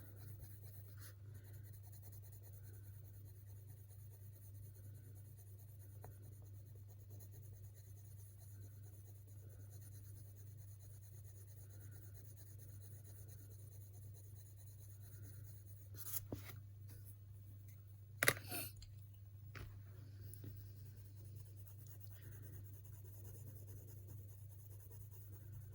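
Faber-Castell Polychromos colored pencil working on paper, a faint steady scratching of lead pressed harder then eased to blend, with a few brief louder scrapes and a low background hum.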